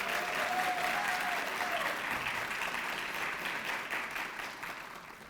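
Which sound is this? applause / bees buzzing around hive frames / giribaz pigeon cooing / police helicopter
applause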